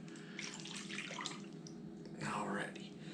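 Liquid for a beef jerky marinade is poured out in one brief, close burst of splashing and gurgling, over a low steady room hum.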